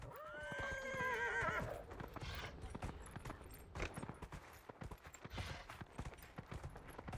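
A horse in the video game Dragon Age: Inquisition whinnies loudly at first, then its hooves clip-clop in a quick, steady gallop rhythm, fairly quiet overall.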